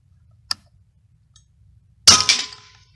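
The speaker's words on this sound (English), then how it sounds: "We're going to go ahead and shoot this teapot and a half inch sheet of plywood." A faint click comes first, then a sharp, loud metallic clang with a ringing rebound as a .25 caliber Hatsan Bull Boss PCP air rifle pellet strikes a thick teapot. A soft low hum runs underneath.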